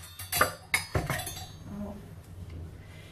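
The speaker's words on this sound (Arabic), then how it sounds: "وهحط حامل السكاكين هنا كده" A knife holder is set down on a kitchen counter, giving a few sharp metallic clinks and knocks in quick succession followed by softer shuffling and settling sounds, close and fairly quiet.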